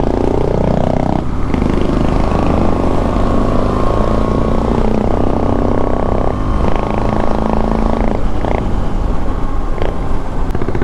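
An ATV engine running with no exhaust fitted, a loud, raw, steady drone close by that holds without pause throughout, with slight shifts in pitch and roughness.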